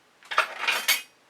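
Large, medium and small painting spatulas handled together, giving a few soft metallic clinks and scrapes close by and fairly quiet, with no talking.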